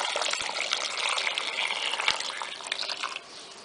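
Three glasses of water pour into a cooking pot for stuffed vegetables, a continuous close splashing gush that carries on for several seconds before easing off.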